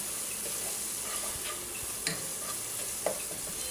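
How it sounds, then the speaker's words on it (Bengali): Ground cumin and other spices sautéed with onion in oil in a pan, a faint constant sizzle with occasional spatula scrapes and light knocks, near but subdued, with no voices. "তেলের মধ্যে কষায় নিব।"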